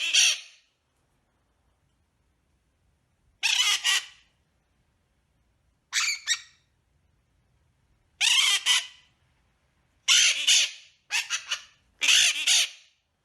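A wild, untamed pet bird gives a series of loud, harsh squawks in separate bursts, some single and some doubled, with quiet gaps between them and no talk.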